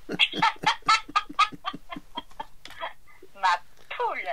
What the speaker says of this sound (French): Ça glousse ma poule.